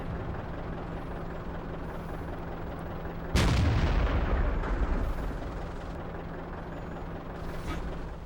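A single loud, booming tank gun shot from the World of Tanks game, firing the Waffenträger auf Pz. IV, rings out mid-clip over a steady engine rumble and then slowly fades.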